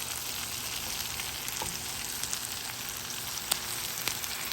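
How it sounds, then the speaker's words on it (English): Apples sear in a skillet alongside herbed steak, giving a steady, fairly quiet sizzle and crackle with a few small pops, heard alone and up close. "So we've given the apples a nice sear."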